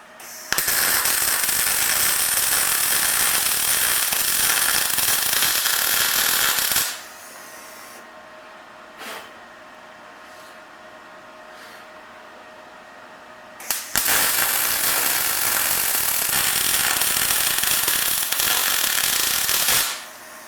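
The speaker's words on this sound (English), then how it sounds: "It's like they say, thank God for grinders." An angle grinder grinds down rough welds on the shock towers of a Baja buggy, a loud continuous harsh whine in two long bursts separated by a quieter pause with faint clicks.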